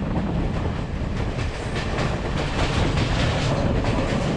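A Sri Lankan passenger train running from Negombo toward Colombo, heard from on board as a loud, continuous rumble with rhythmic clickety-clack of wheels over rail joints.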